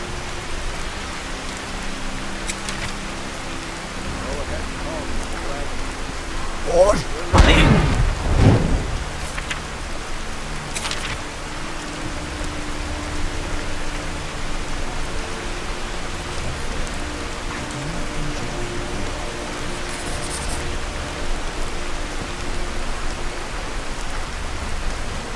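Steady rain and a rumbling thunderstorm summoned by the Unrelenting Storm shout in Skyrim, with a loud thunderclap crashing in midway before the downpour continues evenly, no voices present.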